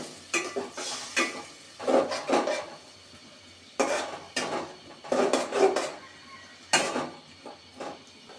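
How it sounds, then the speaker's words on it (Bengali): Onions and spices sauté in a pan alongside beef and potatoes, with a faint sizzle beneath repeated bursts of a utensil scraping and stirring against the pan, coming in irregular rhythmic strokes close by. "পেঁয়াজের সাথে একটু কষিয়ে নিতে হবে ভালোভাবে কাঁচা গন্ধটা দূর হওয়ার জন্য ভালোভাবে ভেজে নিতে হবে"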